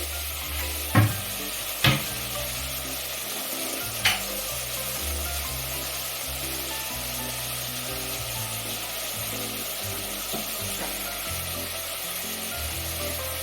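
Mutton fries in a pan with salt and turmeric, sizzling steadily while a spoon stirs it. A few sharp scrapes and knocks of the utensil stand out above the continuous frying hiss.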